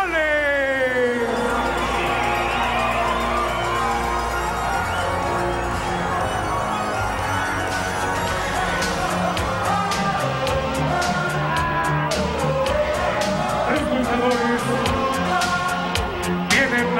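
Crowd in a lucha libre wrestling arena cheering and applauding, with dense clapping, shouts and whistles. An announcer's amplified voice booms over it.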